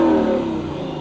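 The V8 of a 2024 Lexus LC 500 convertible sounds a loud, close rev, a deep throaty roar that peaks at once and then eases down in pitch and volume over about a second.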